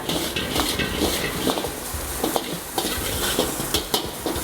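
Steamed rice is stir-fried for goat fried rice, a steady hiss and sizzle broken by repeated scraping and tossing strokes of the spatula, close and fairly loud.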